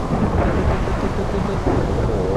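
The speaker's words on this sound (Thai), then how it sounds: "แล้วฟ้าผ่าแบบไม่หยุดไม่หย่อน" Thunder from nonstop lightning strikes on a Minecraft server fills the whole stretch as a loud, continuous rumbling roar with a rain-like wash and no break.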